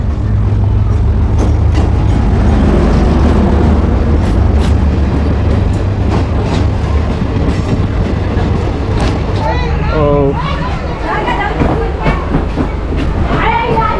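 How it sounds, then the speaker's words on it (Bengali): Radhikapur Intercity Express, a DEMU train, pulling into Dalkhola railway station, a loud continuous rumble and rattle of wheels and carriages close by, with someone talking over it near the end. "চলে এলো পঁচাত্তর সত্তর ছয় রাধিকাপুর ইন্টারসিটি এক্সপ্রেস"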